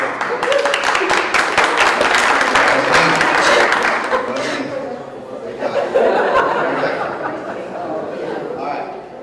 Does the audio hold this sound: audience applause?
yes